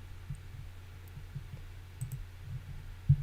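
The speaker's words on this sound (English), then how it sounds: "You guys always hear me clicking my mouse so much." Computer mouse clicking, a handful of faint, sparse clicks scattered over a low steady hum, quiet and close with no speech.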